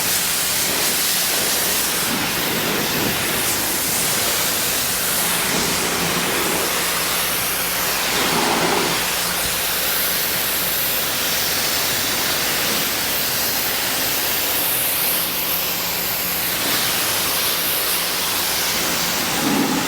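A hose spray rinses a gray Ford Raptor truck, a loud, steady broadband hiss of water striking the body that continues throughout with small shifts in intensity, no voices.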